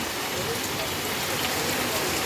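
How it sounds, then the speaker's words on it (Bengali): Heavy rain pours down in Jaipur, Rajasthan, in a dense, steady hiss with no breaks, drumming evenly on surfaces. "কীরকম বৃষ্টি হচ্ছে"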